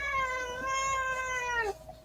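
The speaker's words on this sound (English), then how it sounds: "That's my cat. She's bitching." A house cat gives one long, drawn-out meowing yowl lasting about two seconds, loud and close, with a falling pitch at the end before a short quiet tail.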